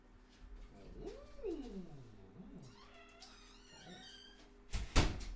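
A cat meows indoors in several drawn-out, sliding cries close by, and a sharp knock or thud follows near the end.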